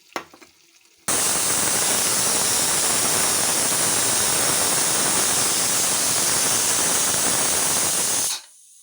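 A pressure cooker holding tomato chicken curry vents steam after its whistles: a loud, continuous, even hiss that starts abruptly, holds steady for about seven seconds and then cuts off.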